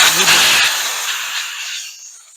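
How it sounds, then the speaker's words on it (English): A close, loud burst of aerosol cleaner sprayed onto a Briggs & Stratton carburetor hisses, then tapers off into quiet over a couple of seconds. "spray that off a little more"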